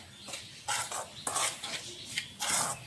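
A spoon scrapes and stirs a hot oil mixture in a vessel for rice-flour sevai, making several short bursts of metallic scraping with brief pauses between strokes.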